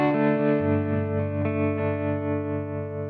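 Clean electric guitar on the neck pickup through a Headrush amp rig with tremolo, a single ringing chord whose sustained notes pulse gently in volume as they decay, played alone with no talk.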